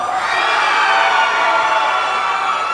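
Loud, continuous cheering and whooping from a small audience at a livestreamed fighting-game event, a steady roar of many voices with no pauses.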